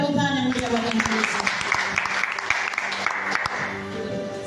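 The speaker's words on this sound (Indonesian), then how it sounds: "Beri tepuk tangan yang mulia bagi Yesus" Church congregation clapping in praise at a Christmas service, a steady patter of many hands with a few sharp claps standing out, under musical tones and a voice.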